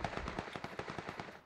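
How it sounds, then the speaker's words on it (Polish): Rapid close-range gunfire in the video game PUBG, a quick string of about a dozen sharp shots in an even rhythm, fairly quiet overall and with no talking. "Jakieś strzały na blisko."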